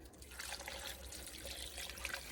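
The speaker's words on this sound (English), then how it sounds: "we're just going to pour all of this yummy broth" Broth poured into a crock pot, a soft continuous liquid trickle and splash, quiet and steady over a short stretch with no talking.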